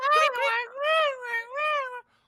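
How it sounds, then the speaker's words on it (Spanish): A cat meows in a drawn-out, wavering cry of about two seconds, rising and falling through several swells, close and fairly loud with nothing else around it. "Un gato."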